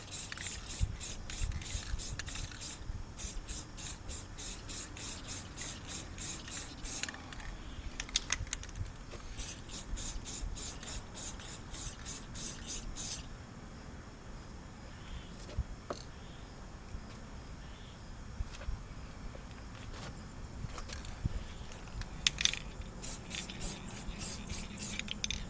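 Spray paint hissing as a base coat goes onto a heavy 1926 DL&W 130 RE rail, in several bursts with brief pauses between them, steady and fairly close, with no talking.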